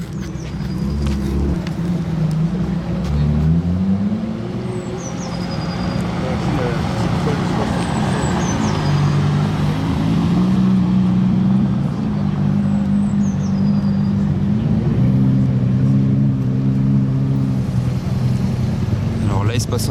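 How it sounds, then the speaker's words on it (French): An Aston Martin One-77 supercar approaches at a car gathering, its engine a continuous low drone with shifting tones, while someone talks excitedly over it. "regardez ce qui arrive là-bas, Aston Martin 177"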